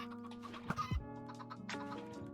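Chickens clucking in a hardcore Minecraft survival world, several short clucks and squawks over a steady game background hum, close and clear.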